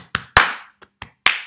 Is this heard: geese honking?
no